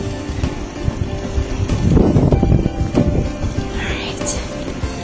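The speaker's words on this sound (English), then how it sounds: "That's a cold wind." Cold wind during a winter snow storm outside a heated greenhouse, blowing in rough gusts that buffet the microphone, with a person talking over it.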